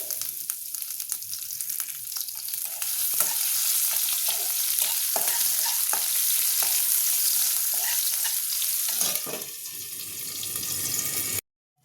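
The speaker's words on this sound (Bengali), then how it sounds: "পেঁয়াজটা আমার ভাজা হয়ে গেছে" Steady sizzling and crackling of onions frying in a pan, with occasional stirring clinks and scrapes throughout, close and continuous, ending abruptly.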